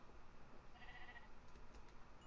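A sheep bleats in the Minecraft survival game, a faint, soft single bleat over a steady low background hum.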